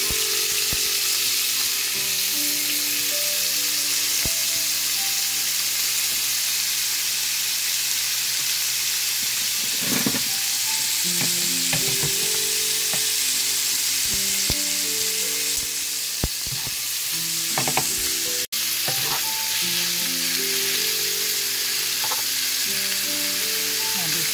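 Beef strips for spring rolls frying in a hot pan, a steady loud sizzle throughout, with occasional scraping stirs and a faint hum underneath, no talking.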